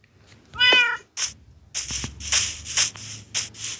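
A pet cat in a life-simulation video game meows several times, starting with one loud drawn-out call and followed by a string of shorter, softer mews, close and clear with nothing else over them.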